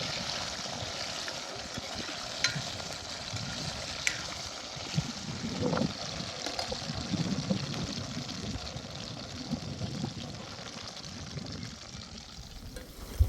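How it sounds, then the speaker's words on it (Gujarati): Gunda sizzling and bubbling in hot oil, a steady soft frying hiss with occasional stirring clinks, no voices. "તેલમાં આપણે આને ફ્રાય કરી લઈશું થોડી વાર માટે"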